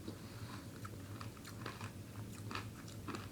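Wonka Nerds Rope candy being chewed up close, soft crunchy bites and crackles of the little nerds repeating irregularly, quiet and intimate with no talking.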